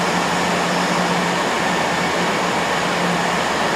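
A GWR Class 180 diesel train at Reading station on the Great Western Main Line, heard as a steady, loud, broad rumbling roar with a low engine drone, continuous for the whole stretch with no talk.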